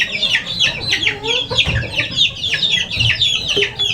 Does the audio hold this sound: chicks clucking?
yes